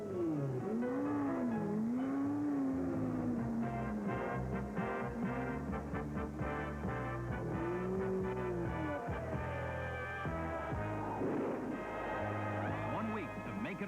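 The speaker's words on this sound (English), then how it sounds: "The sounds of the powerful engine signal the approach of springtime and the 500." Indy 500 race cars from the 1981 race, their engines rising and falling in pitch as they pass, heard under someone speaking throughout, with loud, sustained motor drone and sweeping Doppler tones.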